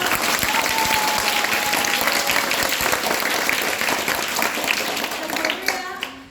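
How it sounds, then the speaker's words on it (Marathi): Audience at an outdoor TB awareness street play applauding loudly in a dense, sustained burst of clapping that carries on for several seconds before thinning out at the end. "जोरदार टाळ्या वाजवा"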